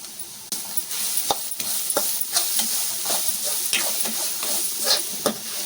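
A spoon stirs chili powder into carrot rice in a hot pan, with a soft sizzle underneath and repeated scraping strokes against the metal at an uneven rhythm, close and fairly loud.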